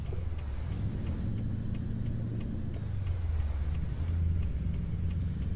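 Virtual Mack Ultraliner truck engine in American Truck Simulator, a low, throaty rumble that rises and falls as the rig drives, fairly quiet and continuous with no speech.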